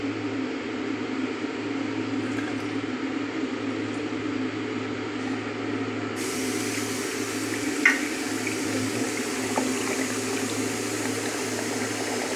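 Brine being poured out of a container of salted eggs soaked for a month, a steady rushing pour of water lasting throughout, close and continuous.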